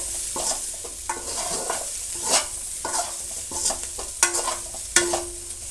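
A spoon repeatedly scrapes and stirs bitter gourd masala gojju in a pan of oil and melted jaggery, rhythmic close strokes over a soft steady sizzle.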